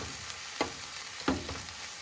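Beef macaroni sauce made with home-canned pasta sauce and onions heats in a pan off grid, giving a quiet, low sizzle broken by two soft utensil clinks.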